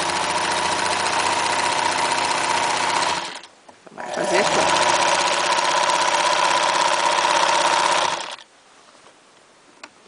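Sewing machine stitching cloth for a fabric rag doll, running in two long steady buzzing bursts separated by a short pause, loud and close, with someone briefly speaking during the stitching.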